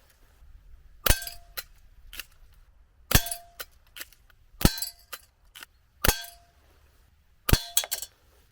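Marksman 1015 air pistol firing 4.5 mm BBs at a target: five sharp, loud spring-air shots spaced about a second and a half apart, each followed by small metallic clinks and rattles of the pistol being handled and recocked.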